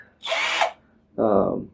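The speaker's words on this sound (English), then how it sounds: "screwdriver, electric drill. This does most of the job." A 12-volt battery electric screwdriver drill whirs in two short bursts, each roughly half a second long, close and loud with a brief pause between them.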